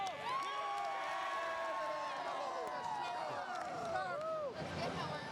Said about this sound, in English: that's the Martin County cheering section